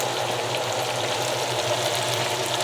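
Steak and potatoes sizzle steadily in a hot pan, a dense, continuous frying crackle close by with no talking.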